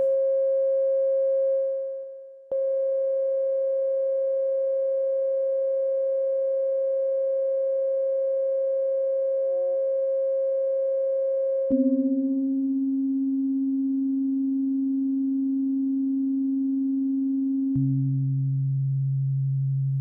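Pure electronic ring modulator tones from a Prophet Rev 2 synthesizer hold steady for long stretches, then step down in pitch twice, with a brief warble midway; clean, close and without voices.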